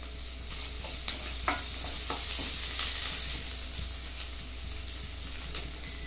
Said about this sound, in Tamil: வெங்காயம் பச்சை மிளகாய் நல்லா வதங்கி வர வரைக்கும் நம்ம வதக்கிக்கலாம்